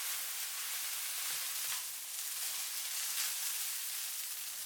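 Beef balls simmering in light and dark soy sauce with ground pepper in a pan, a steady close sizzle and bubbling hiss running continuously throughout without any voices.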